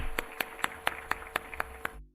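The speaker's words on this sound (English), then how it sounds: "please let us give a big round of applause and welcome Dr." Sparse applause welcoming Dr. Khadar Valli to a lecture at IIT Bombay: about eight crisp, evenly spaced claps, close and distinct, then an abrupt cut to silence.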